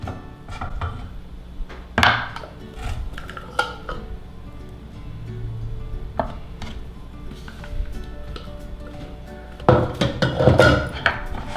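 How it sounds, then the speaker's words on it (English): A gluten-free crumb crust for a keto cheesecake is pressed into an 8-inch pie pan: soft thuds and scrapes close up, with sharper clatters of a utensil against the pan near the start and end. "you just want to press it down into the pie pan"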